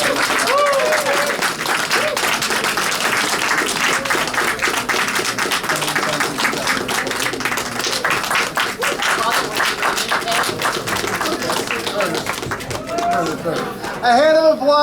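Audience at an anniversary gala applauding an award recipient, a dense, sustained wash of many hands clapping that continues for the whole stretch, close and loud, thinning slightly near the end.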